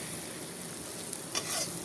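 Sliced bitter gourd fries in a pan with a loud, continuous close sizzle. A couple of quick stirring scrapes come near the end, with no voices.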